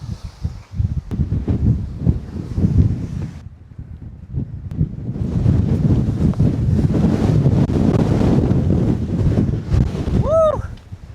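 Blustery wind buffets the microphone out in the open at a camp in New Zealand, loud rumbling gusts that rise and fall throughout with a brief lull midway.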